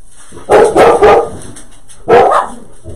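Dogs bark in a craft room, three quick nearby barks in a burst followed by one more bark after a short pause.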